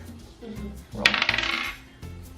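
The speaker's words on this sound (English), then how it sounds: "Roll the dice." Dice clatter and bounce across a board game surface for about a second, a quick burst of bright rattling taps up close, then fall still.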